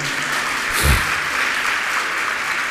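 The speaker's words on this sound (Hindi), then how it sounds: "सब बेटियां ताली बजाओ" Daughters in a religious discourse audience clapping, a dense and even wash of applause that continues steadily from start to end, with a brief thump near the middle.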